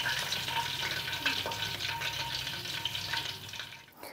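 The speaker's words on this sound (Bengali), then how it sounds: "দ্বিতীয়বার আমরা লেগ পিসগুলো ভেজে নিয়েছি" Chicken leg pieces frying a second time in hot oil for crispness, a steady close crackling sizzle with dense spattering that holds evenly throughout and fades slightly at the very end.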